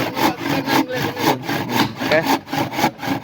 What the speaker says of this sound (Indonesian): dipotong gergaji dulu ya